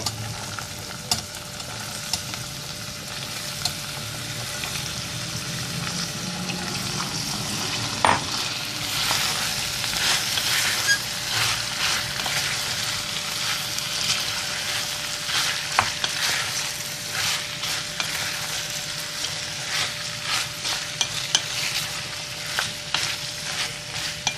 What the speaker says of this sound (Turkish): Evet güzelce karıştırdık patateslerimizi de.